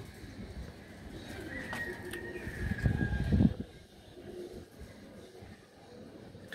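Cooing from Giribaz highflyer pigeons, a hen and a cock, comes as soft low murmurs under steady background hiss, swelling briefly in the middle before fading back.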